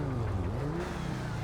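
A loud car engine in Grand Theft Auto V, a steady low rumble with revving pitch shifts, close and continuous, no voices.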